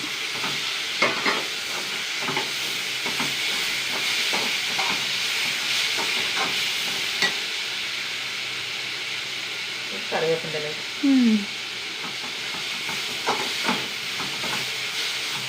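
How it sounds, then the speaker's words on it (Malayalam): Chopped tomatoes sautéing in a pan on the stove, a steady close sizzle and hiss with occasional stirring scrapes, while a person talks over it now and then. "നന്നായി വഴണ്ട് വരണം ആ തക്കാളി"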